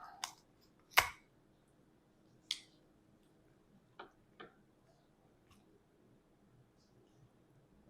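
Kitchen scissors snipping through the ribs of a mutton snapper during filleting, a handful of sharp separate clicks and crunches spread over several seconds, the loudest near the start, with quiet pauses between them.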